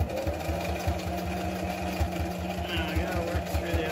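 A sewing machine stitches a thin bias tape strip onto a surgical-style fabric mask, running with a steady, rapid mechanical chatter of needle strokes close by and continuous throughout.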